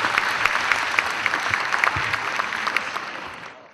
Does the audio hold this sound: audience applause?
yes